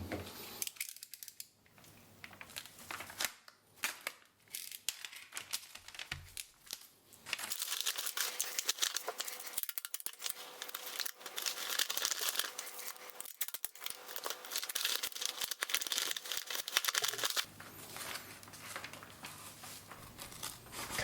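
Tyvek house wrap crinkles and rustles while its seams are taped for an improvised emergency shelter, with irregular crackles that swell into a dense, steady rustling for most of the stretch, close and without talk.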